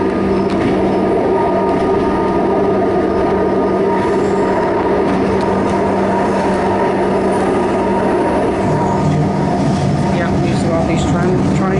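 A metro train in motion, heard from inside the carriage: a steady, loud rumble and hum of wheels and motors that runs unbroken for the whole stretch, with a slight shift in tone near the end.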